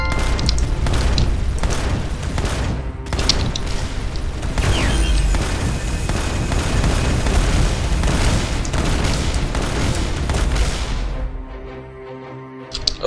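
Dense, continuous gunfire and booming blasts from weapons in the Battle Airship video game fill the scene loudly and almost without pause, thinning out near the end.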